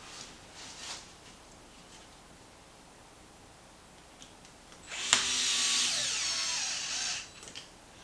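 A power driver sets screws into the front bulkhead of a Traxxas Maxx RC truck, one loud whirring burst lasting about two seconds after quieter handling rustles, no voices.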